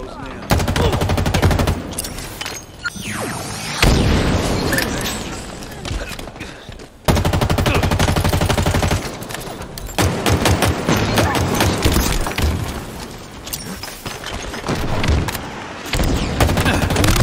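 In Halo Infinite, gunfire and explosive booms come in dense, continuous bursts with short gaps, loud and close, with voices talking underneath.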